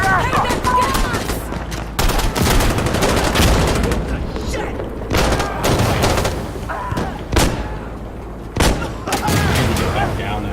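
Dense gunfire in the co-op shooter Insurgency Sandstorm, with overlapping rifle and machine-gun bursts and sharp, close shots cracking through a steady roar of battle for about ten seconds.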